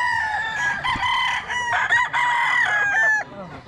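A seven-month-old Golden Boy Sweater gamefowl rooster crows close by on a farm, giving one long, loud, wavering cock-a-doodle-doo with a few clucks, clear and alone.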